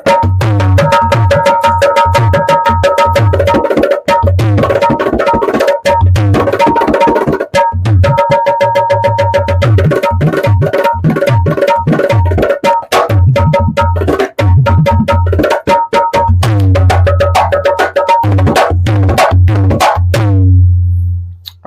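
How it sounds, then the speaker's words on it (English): A premium double-bolted dholak drum played in a brisk, continuous rhythm, with deep resonant bass strokes under sharp, rapid treble slaps. It is close and loud, with brief pauses between phrases. "a double bolted dolak, a premium one, would sound like this"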